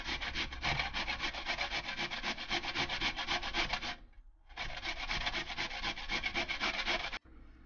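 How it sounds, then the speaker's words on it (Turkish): A potato is grated on the fine side of a hand grater with dense, continuous scraping strokes, close and loud, broken by one short pause midway and ending abruptly. "Şimdi öncelikle patatesimizi rendeliyoruz. Ufak rendede rendeliyoruz."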